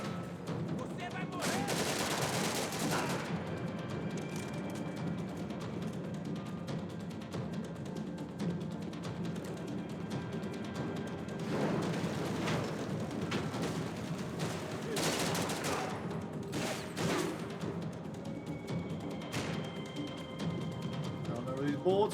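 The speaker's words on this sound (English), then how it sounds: "Don't know where these bullets are coming from." Gunfire in Max Payne 3, with bursts of shots sounding around a voice that keeps talking, the loudest volleys near the start and again in the middle and latter part.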